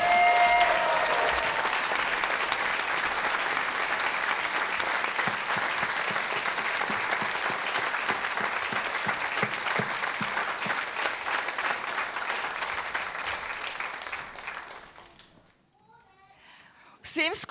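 A large audience applauds children's folklore groups at a folk festival, loud and sustained clapping for about fifteen seconds before it fades to near silence, then rises again briefly.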